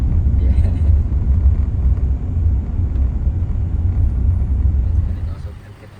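Traffic crawling in a jam on the road near Luang Prabang, Laos, a continuous low vehicle rumble from inside a car that fades toward the end.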